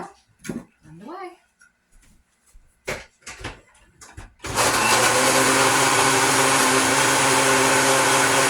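A countertop blender whirs loud and steady from the halfway point, blending a goat milk drink in a narrow-mouth jar, after quieter clinks, a dog whimper and short speech.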